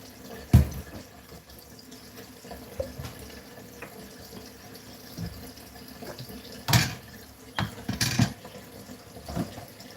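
Hot water runs from a kitchen tap in a soft, steady low stream, broken by several sharp clatters and splashes of dishes or objects in the sink, with no talking.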